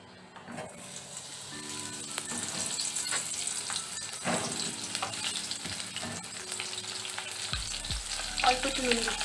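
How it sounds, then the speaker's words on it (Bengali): Pointed gourd (potol) fries in mustard oil in a pan, a dense continuous sizzle with occasional scraping knocks of a spatula, close and steady throughout. "পটলগুলো ভেজে নেব।"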